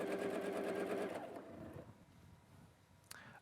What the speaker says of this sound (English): And now we'll just finish sewing this last bit with the 1/4 inch seam.